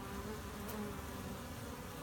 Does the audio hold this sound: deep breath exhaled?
no